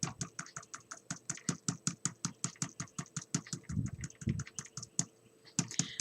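Ink being tapped through a stencil onto an envelope with a dauber: rapid, steady, close dabbing taps in a fast even rhythm, briefly broken by a softer rubbing passage before the taps resume.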